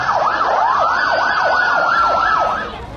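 An ambulance siren wails loud and close in Beirut, Lebanon, a fast rising-and-falling yelp cycling steadily for about two and a half seconds before dropping away.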